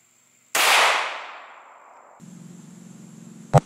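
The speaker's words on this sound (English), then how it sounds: "shooting the 115 grain Hornady Critical Defense" A single sharp 9mm shot firing a 115 grain Hornady Critical Defense round, a loud close crack with a long decaying tail, followed by a faint hum and a brief click at the end.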